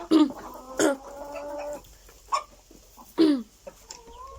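Backyard hens at a home chicken coop cluck close by in short, throaty bursts separated by brief pauses, with a softer trailing call at the end.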